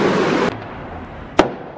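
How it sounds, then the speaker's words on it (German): Fireworks over Travemünde by the Baltic coast at night, a muffled rumble that cuts off abruptly, then a single sharp bang after a short quiet. "Jetzt machen sie noch ein Feuerwerk hier."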